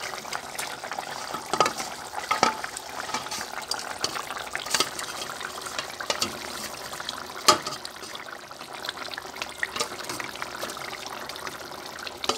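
Water being poured into a fish curry pan of rohu and potatoes, a soft trickling, splashing flow under a sizzling background with a few clicks, moderately close and steady.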